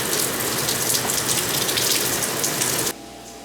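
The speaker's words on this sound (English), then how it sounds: "What to do when it's raining non-stop." Heavy rain pours down in the Brazilian rainforest as a loud, steady, dense hiss with no break, then drops abruptly to a quieter, duller wash near the end.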